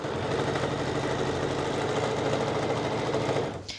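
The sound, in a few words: sewing machine stitching a skirt seam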